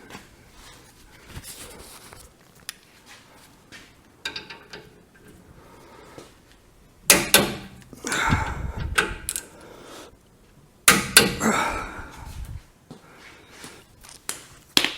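Brake caliper bolts being torqued during a basic brake job, giving sporadic mechanical clicks and ratcheting bursts, with louder clusters of tool and metal handling noise standing out near the end, and no talking.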